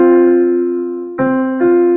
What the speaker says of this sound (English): Michael, a fourth would sound like this